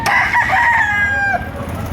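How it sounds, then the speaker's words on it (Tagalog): A rooster crows once, loud and close, its call rising and holding before dropping off, followed by a little background noise, at a chicken market in Padre Garcia, Batangas, Philippines. "Yung mga manok nito."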